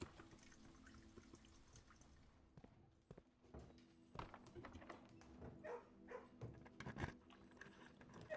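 Dogs bark and whimper in the Kennel room of the video game Blue Prince, faint repeated yelps and barks scattered over a quiet dripping-water background.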